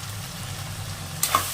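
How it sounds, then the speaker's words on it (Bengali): Mutton masala with Kashmiri chili powder and shahi garam masala fries in a pan, a steady low sizzle running throughout, with a brief scrape or stir near the end. "এটা আমি আবারও একটু ভালো করে কষিয়ে নেব।"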